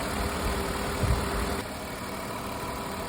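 A 2002 Ford Escape engine with a lean condition and low idle runs steadily at idle, a close, dense mechanical drone that briefly swells before settling into a slightly quieter, even hum.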